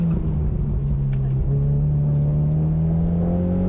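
An autocross car at Kil-Kare after dark pulls hard under power, its loud close-up engine drone climbing steadily in pitch through the section with one brief dip, and no voices alongside.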